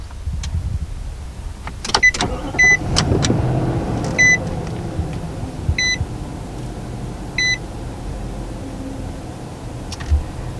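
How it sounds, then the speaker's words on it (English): A 2020 Nissan Titan pickup is started by push button inside the cab, with a series of short electronic chimes repeating at regular intervals, a few clicks and thumps, and the engine rumbling low underneath throughout. "Now start the Titan, we have push button start."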